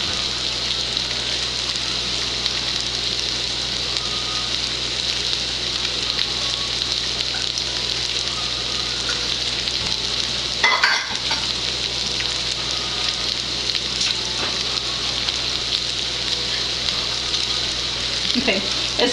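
Spam, vegetables and pineapple sizzling in a pan as sweet and sour sauce is added: a loud, continuous frying hiss for the whole stretch, briefly disturbed midway by a scrape or splash, with no one talking.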